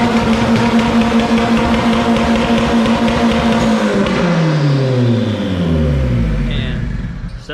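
A Honda Civic engine revs loudly and close, holding a high note before winding down in a long, falling sweep as the revs drop and settle.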